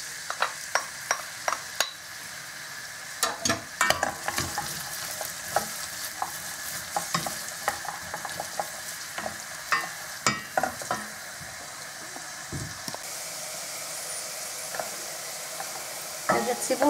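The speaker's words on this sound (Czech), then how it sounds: "dáme si na sadýlko osmahnout cibulku" Onions sizzle and crackle in hot lard while a utensil repeatedly scrapes and stirs the pan, with quieter steady frying in between.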